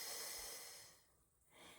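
A long seated Pilates exhale, breathy and soft, flows through the first second from close by, then trails off into near silence before a faint rise of breath at the end.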